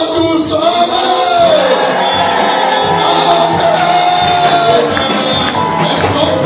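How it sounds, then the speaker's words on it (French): A church congregation in a French-language service shouts together in a loud, sustained mass of voices, with a crowd roar lasting several seconds. "Et nous crions tous Amen"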